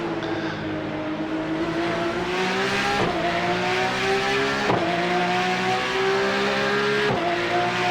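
A Porsche 911 race car in iRacing at Bathurst howls down the straightaway in a draft, its engine note loud and steady and rising through the gears, with sharp dips at each upshift.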